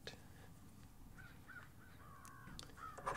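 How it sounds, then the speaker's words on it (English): Several crows caw outdoors at a distance, a series of short harsh calls repeating unevenly over a low background rumble. "I hear the crows."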